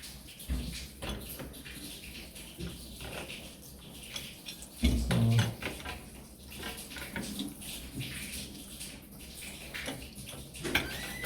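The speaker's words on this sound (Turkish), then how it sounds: "O yan taraftaki su fazla çıkmaya başladı." Water running and splashing from a faucet during a mixer tap replacement, a low steady flow with a louder gush near the middle, heard close and alone.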